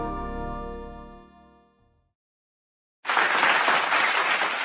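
An audience at a basketball talk show bursts into loud, dense applause after a sustained musical tone fades out and a short silence passes.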